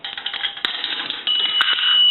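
A nickel drops through a three-slot payphone mechanism, then a sustained bright metallic bell tone rings out once and holds steadily to the end.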